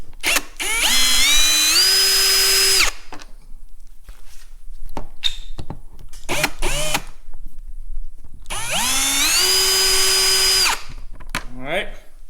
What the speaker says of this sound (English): We need to unscrew these 4 screws.